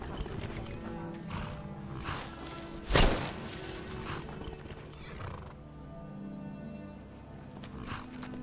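Horse in the video game Skyrim neighs and whinnies loudly, with a sharp louder burst near the middle, while clip-clopping hooves and game ambience run steadily throughout.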